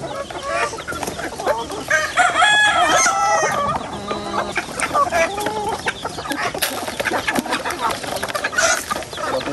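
Several pet chickens cluck busily close by while a rooster crows, the calls overlapping in a noisy, lively jumble.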